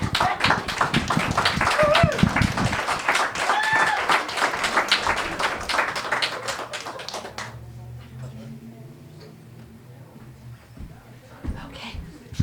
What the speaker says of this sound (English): One more round of applause for Kiko